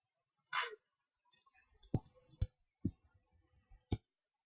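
A computer mouse clicks in CAD software while a housing part is being modelled: about five sharp, separate clicks spread over a few seconds, close and fairly quiet, with no talking.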